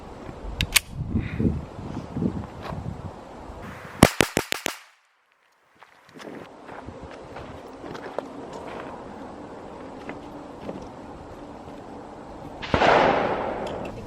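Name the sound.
handgun shots fired with the Shield pistol at range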